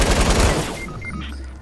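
Rapid burst of Fortnite gunfire, loud and close for about half a second, then trailing off into quieter in-game ambience.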